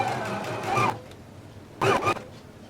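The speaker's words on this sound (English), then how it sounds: "I'm going to just stitch all the way around the sleeve" A sewing machine stitches around a garment sleeve in two short motor bursts, a whirring run, a pause of quiet, then another brief run, close and moderately loud.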